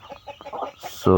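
A breeding hen gives a short run of soft clucks, close by, ending in a louder squawk.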